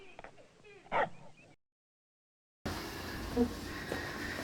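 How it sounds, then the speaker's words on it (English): A shy, scared dog gives a few soft yips and whimpers near the start, mixed with people talking, then a gap of silence before a noisier stretch of room sound. "This is a Pooch. Nice Pooch. He's everybody else's dog"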